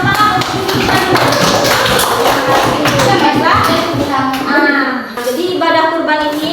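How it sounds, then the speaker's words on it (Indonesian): Children in a primary school classroom clap together in a loud, steady burst of applause that fills the room, with young voices calling out over the clapping. "Nah, kita kasih tepuk tangan, semangat untuk kita dulu"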